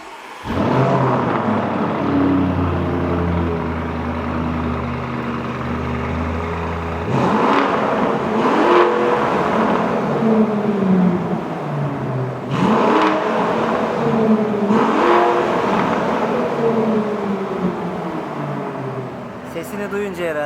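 A Lamborghini Urus engine revs hard in sport mode in repeated bursts, its exhaust roaring up and dropping back, with people talking over it throughout.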